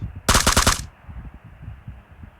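Gunfire in PUBG: a quick burst of about five sharp automatic shots lasting half a second, fairly close and loud, followed by a low background hum with soft thumps.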